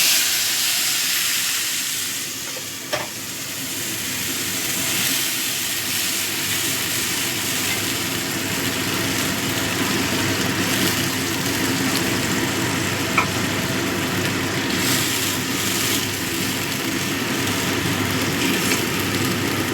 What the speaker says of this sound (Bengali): সর্ষের পেস্টটা দিয়ে দিচ্ছি।